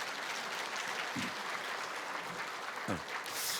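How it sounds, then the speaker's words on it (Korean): Church congregation clapping in thanks during a Sunday sermon, a soft, steady wash of applause from a large gathering heard at a distance, with a couple of faint low thumps mixed in. "감사의 박수 하나님께 합니다."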